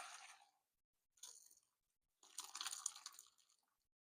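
Cooked white beans tip into a strainer as their cooking water drains off, heard as three separate splashy, wet pouring bursts with short silent gaps between them, the last burst the longest and fullest.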